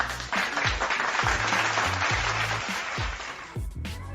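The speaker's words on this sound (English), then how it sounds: "and then this is the applause." An applause sound effect from a Maono podcast mixer: steady applause from a sizable audience, dense clapping sustained throughout, with a faint rhythmic beat underneath.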